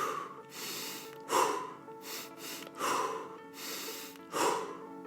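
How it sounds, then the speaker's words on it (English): Quick breathwork breathing with a double inhale, four rhythmic cycles of close, audible sniffing inhales and breathy exhales repeating about every one and a half seconds over a steady background hum. "I'm just breathing a little bit quicker with the double inhale."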